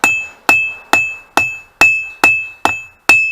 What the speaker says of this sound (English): Better bring out the smaller hammer for next heat.